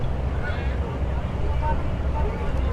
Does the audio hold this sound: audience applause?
no